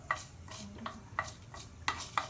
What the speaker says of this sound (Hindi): तेल रे भाजी हे जाउची।